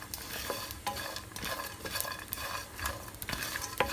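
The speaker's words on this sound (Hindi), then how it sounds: "इसको इस तरह चलाते रहेंगे ताकि ये भी थोड़ा सा भून जाए" Coconut and spices roasting in a pan for bagara baingan masala, stirred continuously with a dense dry rustle and sizzle, spoon scrapes and light clicks recurring throughout, close and moderately loud.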